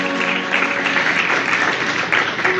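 A church congregation at Sunday Mass applauding strongly, a dense, continuous wash of many hands clapping that fills the room, loud and steady with no talk over it.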